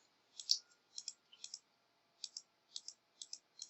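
A computer mouse clicks sharply and close by, mostly in quick double presses spaced through a quiet room, about a dozen clicks in all.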